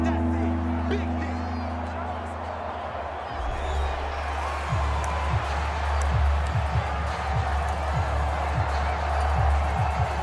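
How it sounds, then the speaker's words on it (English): Stadium crowd noise in Madden NFL 25 swells into a loud, sustained roar with scattered cheers, rising during a goal-line play. "This crowd doing all they can."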